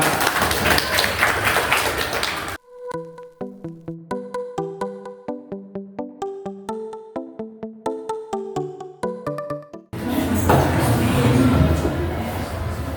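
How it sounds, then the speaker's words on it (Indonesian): An audience at a school teaching-practice event applauds in a dense wash of clapping, once at the start and again at the end, with a stretch of light, plinking keyboard music in between. "Tepuk tangan untuk kita semua."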